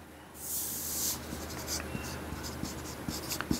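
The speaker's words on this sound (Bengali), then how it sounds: "আমরা লিখে নিচ্ছি ভাগফল 60" Pen or pencil writing on paper while working out a class five maths division problem, a soft scratchy run of strokes with short taps and pauses, close and quiet with no voice.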